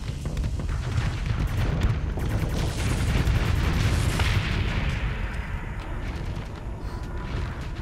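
Heavy, continuous barrage of ship weapons firing during a space battle in the modded Starsector pirate campaign, dense overlapping booms and blasts at a loud, steady level with no break.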